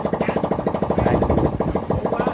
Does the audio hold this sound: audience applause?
no